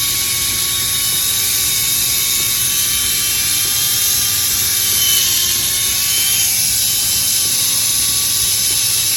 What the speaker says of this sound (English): maybe I just didn't put oil in the gears, but it's not as smooth as I want it to be